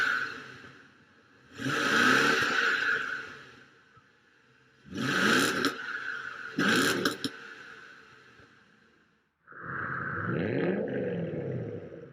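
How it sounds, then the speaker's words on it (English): A car engine revs in three separate bursts with deep induction roar and exhaust note, the pitch sweeping up and down, then settles into a steadier throb, close and loud with no talking. "It's got a nice induction roar and that kind of thing. And the exhaust does drown that out"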